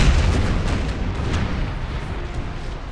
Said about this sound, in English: Shit ton of artillery.